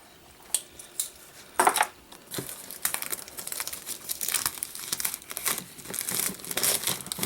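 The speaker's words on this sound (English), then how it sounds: "Pull off the rest of this plastic." Plastic wrap being torn and peeled off the box of a 2015 Broadwell 13-inch MacBook Pro, giving close crinkling and crackling with sharp bursts early on, then a steady run of rustling handling noise.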